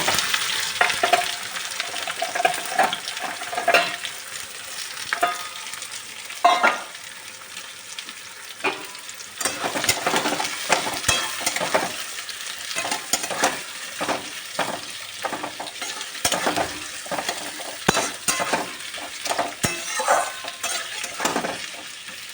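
Chopped onions fry in a pan for coriander chicken, giving a continuous crackling sizzle broken by repeated scraping and clinking stirs of a spatula against the pan, with no talk.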